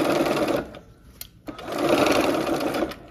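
Sewing machine stitching a curved seam on a quilt block with the needle set to stop down, running in short, fast whirring bursts with a brief pause before stitching resumes.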